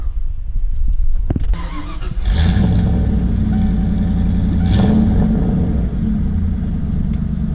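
A 1994 Ford F-150 4x4 pickup truck engine cranks and catches, then settles into a steady low idle rumble with a brief rev, close by.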